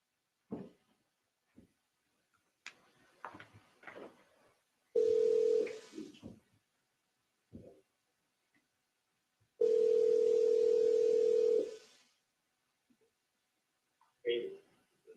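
A played-back recording of a phone call in a courtroom, with two long steady dial-tone beeps separated by short clicks and faint voices, heard fairly clearly amid quiet gaps.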